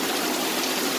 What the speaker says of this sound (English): Pouring heavily out the roof.